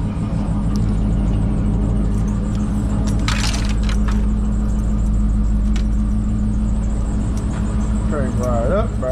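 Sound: car engine cranked up and running

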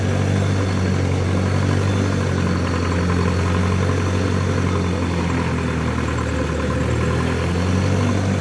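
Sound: homemade tractor engine running while driving home

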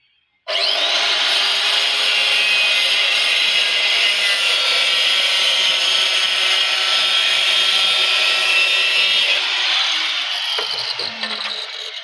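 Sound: cutting a ceramic tile at 45 degrees

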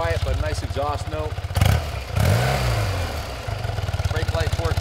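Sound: 1981 BMW R65 motorcycle engine idling, exhaust note

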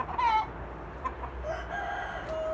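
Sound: rooster crowing

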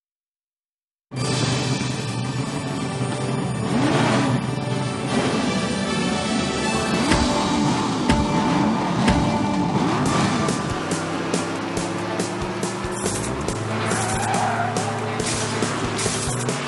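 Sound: car engine revving, Cars Lightning League video game

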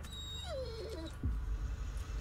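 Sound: dog whimpering in distress in the video game Blair Witch

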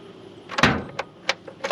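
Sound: Buick Electra 225 trunk unlocked with key and opened

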